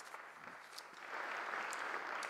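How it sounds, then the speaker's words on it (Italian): Applause from a ceremony audience for the official speaker at the installation of San Marino's Captains Regent, a steady, moderately faint wash of clapping that swells slightly halfway through. "L'applauso all'oratore ufficiale"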